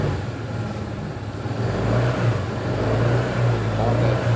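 A 2024 CF Moto SC 150 scooter engine revs steadily to about 4,000 RPM, a continuous mid-pitched drone that swells slightly after the first second and holds close and loud throughout.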